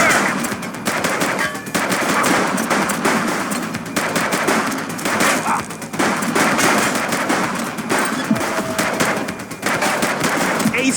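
Sustained automatic gunfire from a top-down police shootout in the game The Precinct, loud and continuous with rapid bursts and overlapping shots throughout, shouted voices faintly mixed in.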